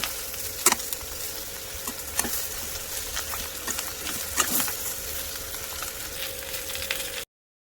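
Stuffed ridge gourd frying in oil in a pan, a steady close sizzle with scattered sharp pops and crackles, no voices.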